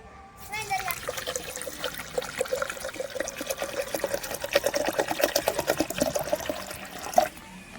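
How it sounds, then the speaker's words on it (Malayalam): Water trickles and pours into a vessel holding chopped guava leaves and ginger for juice, a steady stream whose tone rises as it fills. "നമുക്ക് വെള്ളം ഒഴിച്ചു കൊടുക്കാം."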